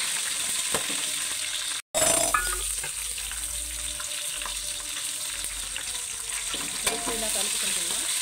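Mutton biryani masala with shahi jeera, curry leaves and green chilies is stirred in a pan, giving a steady close frying hiss and scraping strokes, briefly cut by a short silent gap near the start, with no talk.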